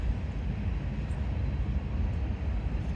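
A train rolls slowly past on railroad tracks near a caboose, giving a steady low rumble that holds loud and continuous throughout, with no voices over it.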